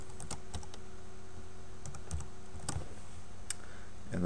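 Keystrokes clatter steadily on a computer keyboard while HTML list tags are typed into a Notepad page, with irregular clicks and brief bursts close by and no talking.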